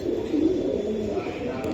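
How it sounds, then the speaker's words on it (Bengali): A Road Master pigeon coos softly and continuously at close range over a steady background hum, one low rolling call lasting under two seconds. "এটি রোড মাস্টার কবুতর"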